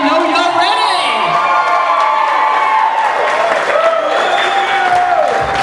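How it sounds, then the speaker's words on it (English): Wedding guests break into a loud round of applause and cheering at a reception, a dense crowd roar with whoops that carries on steadily at close range under a voice over the PA. "we need a big, loud round of applause and let them know you're ready"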